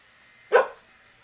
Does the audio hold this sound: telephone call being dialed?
no